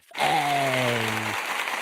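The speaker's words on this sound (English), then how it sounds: "Got the applause for them." Short canned applause burst dropped into an accountant's livestream, rising quickly into a dense wash of clapping with a brief sustained tonal groan underneath, lasting under two seconds.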